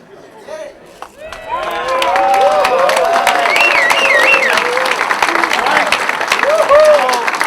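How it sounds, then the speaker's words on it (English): An audience at a football locker room presentation gives Matt Cannon a big round of applause: steady, loud clapping mixed with cheers and whoops that carries on for several seconds after a brief quieter start. "Big round of applause for Matt Cannon."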